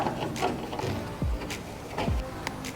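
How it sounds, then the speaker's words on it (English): Bolts being worked out of a car grill with a ratcheting tool, clicking ratchet strokes and short mechanical whirs in a few bursts, close and fairly loud with no talking. "just get all the bolts out from the grill and remove it"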